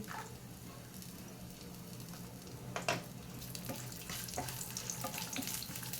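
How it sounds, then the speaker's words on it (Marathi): Cashews, almonds and raisins frying in melted ghee for a sweet semolina dish, a soft, even sizzle with a few faint crackles and clinks, quiet and close, with no talk. "तूप वितळलेलं आहे त्यामध्ये काजू घालते भाजण्यासाठी बदाम घालते बेदाणे घालते"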